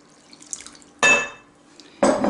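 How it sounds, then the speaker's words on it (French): Liquid poured into a well of flour for homemade pizza dough, two short close splashing pours about a second apart over a quiet background. "je verse tout mon liquide"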